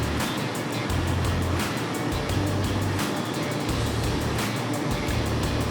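An Antari HZ-1000 haze machine runs steadily with its fan at full speed, a loud continuous broadband rush like wind, with a low pulsing drone underneath and faint clicks; no voices.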